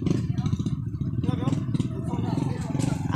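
Motorcycles on a provincial road, a close engine with a pulsing, rattling throb that holds steady throughout while voices talk over it.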